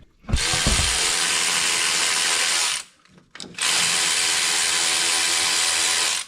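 An impact driver or drill runs on a thermostat housing bolt of a Jeep 3.6 V6 engine, two long, loud whirring bursts split by a short pause, close and continuous.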